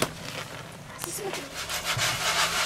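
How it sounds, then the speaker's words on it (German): A large wooden board is sanded in a garden, giving a continuous broadband rasping rub that swells and fades in strokes, with a few sharp knocks and a voice briefly underneath. "ich schleife jetzt noch das große Brett fertig"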